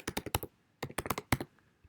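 Keys clatter on a computer keyboard while a web link is typed, with two quick bursts of close, crisp keystrokes separated by a short pause and no voices.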